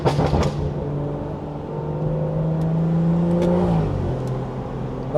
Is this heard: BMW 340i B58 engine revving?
yes